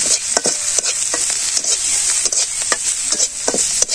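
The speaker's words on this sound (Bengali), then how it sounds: "মশির গুঁড়ো দিয়ে দিলাম, হলুদের গুঁড়ো দিয়ে দিলাম, ভালো করে কষে নিয়ে" Chili powder and turmeric sauté in a pan, with rhythmic scraping strokes of a spoon over a continuous close, loud sizzle.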